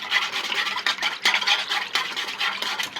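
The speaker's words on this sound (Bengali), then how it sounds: "2টা ডিমের কুসুম দিয়ে আমি এটা ভালোভাবে মিশিয়ে নিচ্ছি।" Two egg yolks being mixed by hand in a bowl, a steady run of close scraping and stirring strokes in an even rhythm, with no voices.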